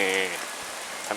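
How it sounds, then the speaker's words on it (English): Light rain pattering outdoors at a pumpkin patch in theme-park gardens during a Scarefest event, a steady soft hiss with a brief tonal sound at the start. "Starting to rain a little bit now"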